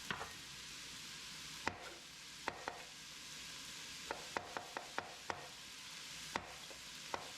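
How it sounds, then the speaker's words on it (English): Sausage browning in a pan for breakfast gravy gives a faint, steady sizzle, broken now and then by sharp clicks and taps of a utensil stirring and scraping the pan. "Let the sausage cook down first."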